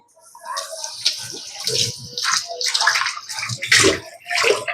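Water splashes and runs intermittently while something is washed in a kitchen during pudding preparation, uneven bursts of splashing close by with no talk over it.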